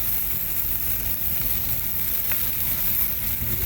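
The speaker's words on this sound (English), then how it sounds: "Now we're going to take the first turn on the bratwurst." Bratwurst sizzles steadily on a Blackstone 22-inch Adventure griddle, a loud, continuous frying hiss with no talk and a brief faint scrape partway through.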